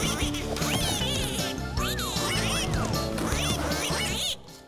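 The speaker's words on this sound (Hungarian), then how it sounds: "Jöjjön egy bíztató háp-háp, ők a kalandvágyó kacsák!" Adventurous cartoon ducks in a children's cat cartoon quack repeatedly and loudly, their bright, bouncy calls running over busy musical backing for several seconds.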